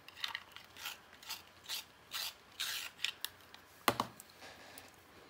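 Colouring pencil turned in a small sharpener, producing close, faint, repeated scraping and rasping strokes with a brief click near the end and no speech.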